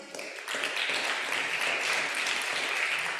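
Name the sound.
congregation applause for Tracy Haskell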